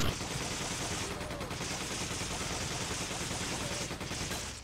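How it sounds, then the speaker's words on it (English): Continuous MP5 submachine gun fire in the co-op video game Resident Evil 5, loud dense rapid bursts filling the clip with little letup. "I loaded my entire MP5 mag into its belly"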